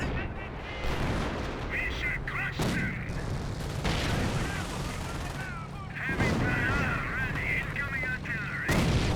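Artillery and small-arms fire in a Company of Heroes battle: repeated booms and rattling gunfire at steady loudness, with voices talking over the combat.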